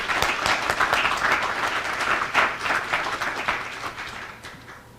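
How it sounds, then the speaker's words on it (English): Audience applause fills a room at the Oil Region Alliance 2021 annual meeting: dense, steady clapping from many hands that holds strong for several seconds, then thins and fades near the end. "round of applause for her dedication to this organization"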